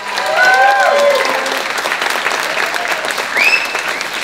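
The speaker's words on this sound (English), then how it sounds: "Applause again for Lizanne Lyons." An audience at a Christmas concert applauds steadily and loudly throughout, a dense continuous wash of clapping with a few whistles or cheers rising above it.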